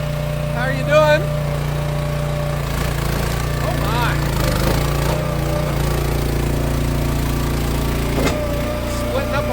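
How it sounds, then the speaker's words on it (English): A Timber Ox Summit log splitter at an Amish dealer, its engine holding a steady, loud drone while splitting a log, with a few sharp clanks over the hum and voices in the background. "Splitting up a log here."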